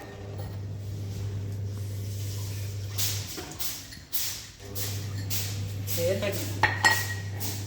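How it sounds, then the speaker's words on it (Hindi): Dishes, pots and pans are washed in a home kitchen, with scattered clinks and scrapes of metal utensils over a steady low hum, while a person talks nearby. "अब मुझे ये बर्तन साफ करने"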